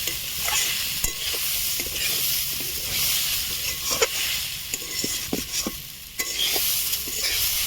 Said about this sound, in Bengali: এখন আমি নারকেল কুচিটা সামান্য পরিমাণ ভেজে নেব